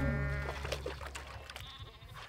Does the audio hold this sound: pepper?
no